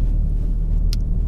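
A 2018 Alpine A110's four-cylinder turbocharged engine burbles steadily through its exhaust with the valve open, a loud, close, continuous low rumble with one brief sharp pop near the end.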